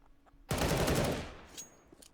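A Galil assault rifle firing in Counter-Strike during a professional ESL One Rio match: one loud, close burst of rapid shots that ends abruptly and tails off, followed by faint background game noise.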